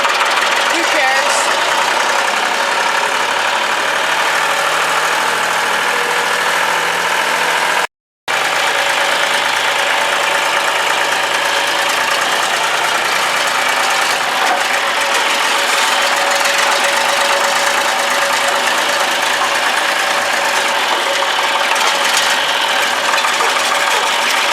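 A tractor engine running in too high a gear, a loud continuous mid-pitched drone with knocking vibration that cuts out for a moment and then resumes steadily for over twenty seconds.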